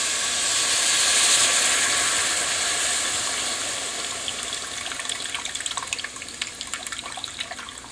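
Chicken broth pours into a cast iron pot of cooking onions and butter, a loud rushing splash that slowly fades into steamy hissing with crackling sizzle and pops.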